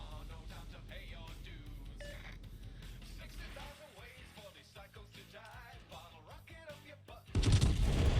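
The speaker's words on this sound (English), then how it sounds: "Speculatively shot there with the HE." Bourgogne battleship in World of Warships firing HE shells, a faint spread of gunfire crackle under a busy game mix, ending in a sudden loud, heavy blast near the close.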